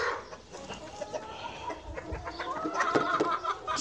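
A flock of more than 300 laying hens clucks and squawks in a farm coop, a busy overlapping chorus of close and distant calls growing slightly louder toward the end, with no speech.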